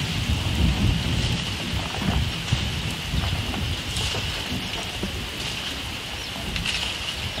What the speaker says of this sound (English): On day 4, we had rain